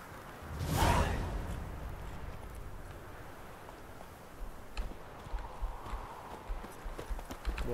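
A horse in The Witcher 3 gallops after a loud whoosh at the start, its hooves settling into a rhythmic clip-clop that carries on to the end of the clip.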